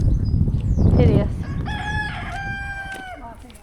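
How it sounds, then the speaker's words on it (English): A rooster crows loudly and close by, with chickens clucking around it on a farm on sheep-shearing day, rising to one long drawn-out crow. "Chickens."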